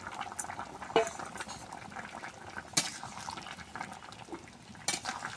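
Moong dal cooking with vegetables in a pot gives a steady low bubbling simmer, close and fairly quiet, with a few sharp clinks of a utensil against the pot.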